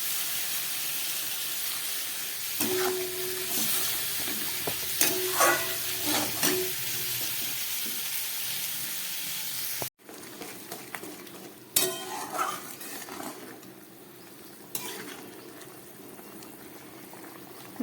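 A pan of tangra fish curry gravy with potatoes simmers after water is added, giving a soft steady bubbling hiss with scattered stirring knocks and scrapes and a brief cut partway through.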